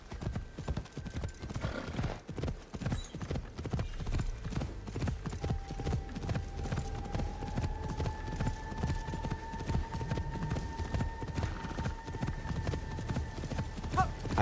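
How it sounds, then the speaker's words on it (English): Steady, rhythmic clip-clop of horse hooves trotting in the video game Assassin's Creed Shadows, moderately loud and continuous, with faint tonal music humming underneath. "There's the horse."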